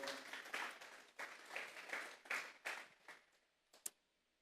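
A church congregation claps in applause, a dense wash of many hands heard at a distance and rather faint, fading out over a few seconds into scattered final claps.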